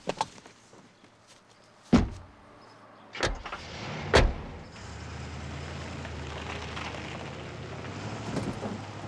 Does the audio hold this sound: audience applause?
no